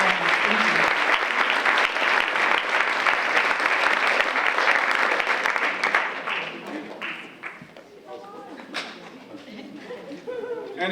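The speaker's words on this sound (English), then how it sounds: "let's give him another round of applause" An audience applauds after a play, dense sustained clapping that fades into scattered claps and a few cheers and voices.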